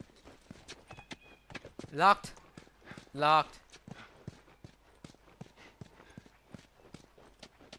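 Horse hooves clip-clop steadily in The Last of Us, a continuous rhythmic patter of footfalls under a man's occasional speech, with two louder vocal bursts standing out.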